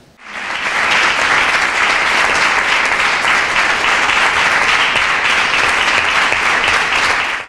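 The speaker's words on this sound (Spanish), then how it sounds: "pido un fuerte aplauso por haber llegado hasta aquí" Loud, sustained applause from a large crowd at a school literary contest, a dense wash of clapping that continues evenly throughout.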